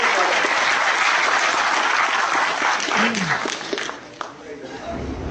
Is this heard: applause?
yes